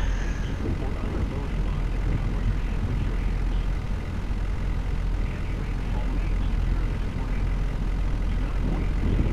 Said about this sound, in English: I'm hearing winds!